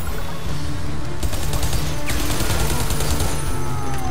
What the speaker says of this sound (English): At least the gun sound effects sound okay.